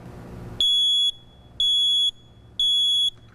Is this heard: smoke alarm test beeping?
yes